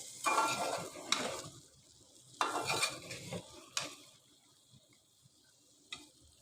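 Bean seeds, dried ribbonfish, tomato and spices are turned together in a pot, with several scraping stirs in uneven bursts and soft sizzling between them, fading into quieter occasional clinks.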